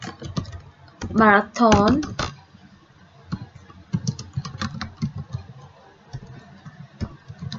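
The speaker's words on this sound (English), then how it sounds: "here we are going to type MTB" Keys clatter in quick, uneven runs as someone types on a computer keyboard while working in MS Access, close and clear, with a short stretch of spoken words breaking in near the start.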